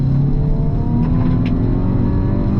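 A 2025 Hyundai i20 N pulls hard at full throttle, its engine a loud, steady drone heard from inside the cabin, with no voices over it.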